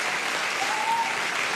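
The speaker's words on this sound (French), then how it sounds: "On peut applaudir quand même un bel effort d'Aymeric." Steady studio audience applause during a French radio or TV show, a close, even wash of clapping, with a faint thin tone briefly rising through it.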